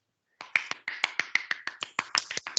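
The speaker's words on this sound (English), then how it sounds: "I love the clapping that's going on as well." Clapping at an online sustainability awards ceremony: a quick run of about a dozen sharp, close claps in steady rhythm after a brief silence, with no talking.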